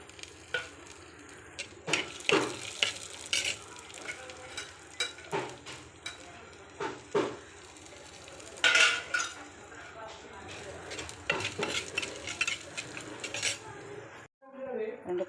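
Dal roasting in a pan with fenugreek, coriander seeds, dried coriander, black pepper and cumin for sambar, heard as a spoon scraping and clinking against the pan in repeated strokes over a soft sizzle, then a sudden silence near the end.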